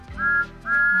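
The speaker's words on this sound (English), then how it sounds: "Thomas whistles beep in return" Two sustained steam-style whistle toots from Thomas the Tank Engine, each clear and bright, the second longer than the first, with no talking.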